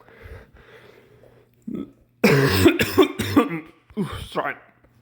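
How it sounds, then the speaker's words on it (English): A person coughs several times in a harsh, loud burst cluster, with throat-clearing sounds, after a short stretch of quiet speech and before more talking. "I don't know why my coughing is really bad though."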